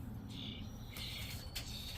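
Faint, distant birds chirping in short high bursts over a steady low background rumble.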